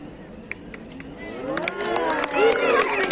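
A street-show crowd in Dublin cheers and claps for a juggler, scattered claps at first swelling into a loud burst of whoops and applause near the end.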